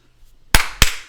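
Two sharp hand claps, loud and close, spaced about a quarter second apart after a brief near-silent pause.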